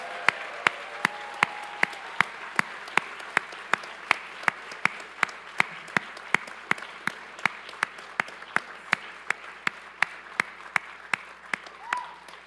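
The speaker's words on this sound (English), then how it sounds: "Let's give all of our graduates a round of applause." Steady rhythmic clapping from a crowd applauding graduates at a hard-hatting ceremony, a sustained round of evenly spaced claps, close and moderately loud, with a faint voice briefly beneath.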